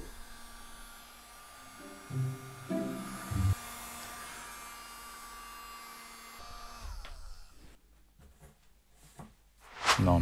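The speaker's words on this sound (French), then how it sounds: "Non, mais ça reste un aspirateur USB" A small USB vacuum cleaner runs with a thin, steady electric whine and hum. Brief knocks and handling noises break in partway through.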